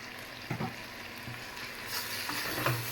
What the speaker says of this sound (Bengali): তেল মশলা সব কিছু দিয়ে এটাকে একটু ভালো মতো কষাবো